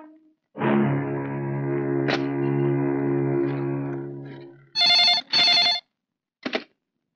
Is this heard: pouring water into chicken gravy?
no